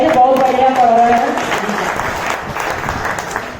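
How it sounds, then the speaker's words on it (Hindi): Applause from the audience at a poetry gathering, a kavi sammelan, with loud crowd clapping over a speaking voice that fades as the clapping continues and slowly thins. "एक बार जोरदार तालियां बजाइए"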